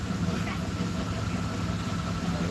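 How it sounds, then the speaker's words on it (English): A truck engine idling nearby with a rich exhaust, a steady low rumbling drone that holds even and unbroken over the whole stretch at moderate loudness. "I hope they turn that truck off."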